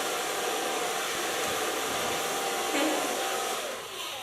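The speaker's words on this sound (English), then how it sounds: "So far blow drying." Hair dryer blowing continuously up close while drying hair, a steady loud whooshing hum with slight shifts as it moves.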